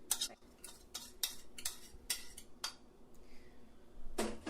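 Melted butter, sugar and crushed graham crackers stirred together in a bowl, producing a run of scraping, clinking strokes in an uneven rhythm, close and clear, with no talking.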